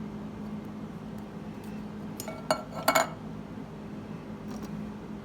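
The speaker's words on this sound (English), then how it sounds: "the last veggie I'm going to add is a can of black olives" A can of black olives tipped into a bowl, giving a few brief metallic clinks and clatters of can against dish, close and clear over a quiet room hum.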